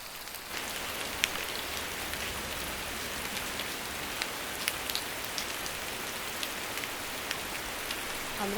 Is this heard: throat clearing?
no